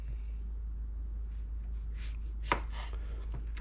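A single crisp knife chop lands on a cutting board as the end is cut off a squash, followed by softer scraping and a lighter tap, close by over a steady low hum with no speech.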